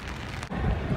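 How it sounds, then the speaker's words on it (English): Rain falls outdoors in Tokyo, a continuous broadband patter with a brief dip midway, then a heavier rush with low rumbling, close and moderately loud, with no talk. "Time to go back out in this rain"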